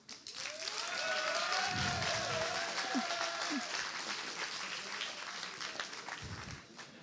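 Applause from a small audience welcoming a speaker at a talk, moderate clapping that swells quickly and stays fairly even, with a faint voice or tone running over the first few seconds, recorded at low level.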